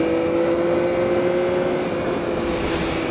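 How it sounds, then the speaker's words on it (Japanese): A Yamaha MT-09 motorcycle's inline three-cylinder engine hums steadily at cruising speed on a highway, a smooth tonal drone with a slight rise toward the end, heard alone. "このモデルのエンジンはご存知の方も多いと思いますが、直列3気筒エンジンとなっています。"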